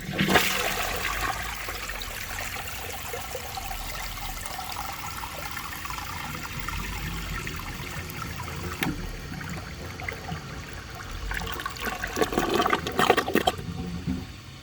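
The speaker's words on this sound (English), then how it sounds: "For the first flush test, let's see how it flushes with a dry bowl." A 1982 Briggs Conserver toilet flushes from a dry bowl with a strong rushing surge, then a long steady wash of water and trickling refill, swelling again near the end. It is heard close up, with no talk.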